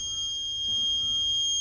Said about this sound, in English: So you basically get a warning buzzer,